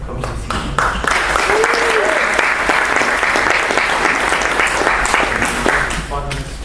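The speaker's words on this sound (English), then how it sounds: "I ask you to have a round of applause for them" A loud, sustained round of applause from an audience at an artificial intelligence industry event, dense, even clapping that fills the whole stretch before tapering slightly at the end.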